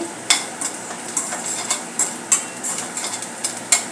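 Onion browning in a pan for a drumstick curry, a steady soft sizzle broken by repeated sharp clinks and scrapes of a spoon stirring against the metal, close and fairly loud.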